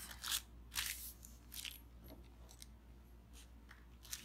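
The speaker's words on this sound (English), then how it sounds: "Pair of scissors, put a little tiny cut." Scissors snip into a paper coffee filter, a few quiet, crisp cuts spaced apart against a soft, still background.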